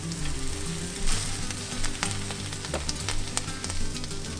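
Onion slices and a garlic clove fry in hot oil, a dense, crackling sizzle with scattered sharp pops, steady and close with no voices.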